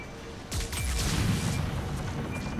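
Fiery explosions burst in Mass Effect 3 multiplayer, a sudden loud blast followed by a sustained roaring, crackling rumble that carries on for a couple of seconds.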